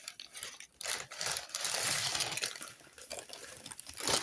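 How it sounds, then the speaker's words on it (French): Paper being handled and crinkled during a small reading-supplies unboxing, a dense, continuous broadband rustle with brief crisp surges, close and fairly loud, with no talking. "Désolée pour le bruit de papier."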